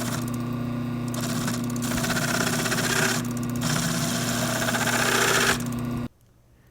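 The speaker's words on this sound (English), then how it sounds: "I took it out to my TAG mini lathe, and I was able to remove this material in less than 5 minutes." TAG mini lathe machining a metal sword pommel, a steady motor hum with buzzing cutting noise that swells and eases in passes, then shuts off suddenly.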